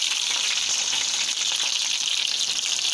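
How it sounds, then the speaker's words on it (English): Food sizzles steadily in a hot pan, a bright crackling hiss that continues evenly without pause. "You can see it sizzling."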